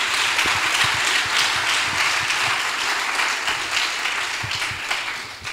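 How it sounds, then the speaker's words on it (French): Church congregation clapping loudly and continuously during a worship service, a dense, sustained patter of many hands with occasional heavier thumps underneath. "Give the Lord a big clap of it."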